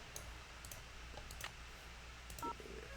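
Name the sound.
telephone dialing in Nancy Drew video game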